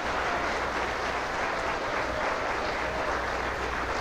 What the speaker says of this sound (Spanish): Dele un aplauso contento para Cristo.